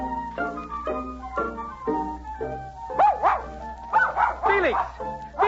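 A dog barks and yips in an old-time romance radio drama set outdoors on open fields, several short barks scattered among a man's speech and a light musical bed.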